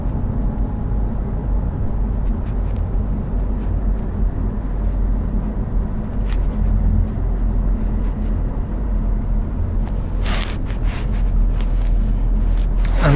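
A 2007 Alfa Romeo 159 V6 JTS saloon drives along a road at town speed, giving a steady low engine and road rumble with wind buffeting the microphone and some brief clicks near the end.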